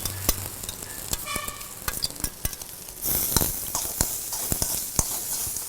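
Onions sautéing in a pan with crushed coconut, red chili, cumin and garlic for a hibiscus kichadi: a steady low sizzle broken by frequent sharp clicks and scrapes of a spoon against the pan, louder sizzling midway.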